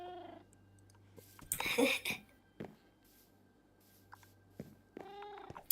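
A cat in the video game Minecraft gives a few short, close meows and mews, separated by clicks, a burst of noise and quiet gaps.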